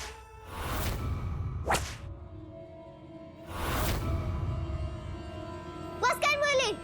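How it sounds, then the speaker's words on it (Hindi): Sharp whip cracks at an Indian household: several sudden loud snaps a second or two apart, with faint voices and room noise between them. "ये तो चाबुक की आवाज थी।"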